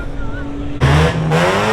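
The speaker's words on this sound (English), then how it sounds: "Who's doing a burnout?" Car doing a burnout at a busy car meet, engine suddenly revving hard and loud with raspy exhaust, rising again after a short dip, close by amid crowd noise.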